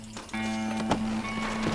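Hooves clip-clop from a horse in Red Dead Redemption, a few distinct hoof strikes spaced irregularly over a steady tonal hum of background music.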